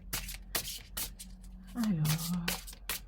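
Tarot cards being shuffled give repeated crisp riffling and slapping bursts in a regular rhythm, close and clear, while someone talks over them.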